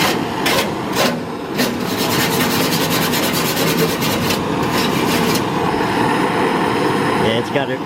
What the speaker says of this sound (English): I'm moving it with a wire brush